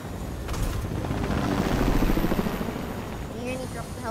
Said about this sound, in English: he dropped the helicopter on my face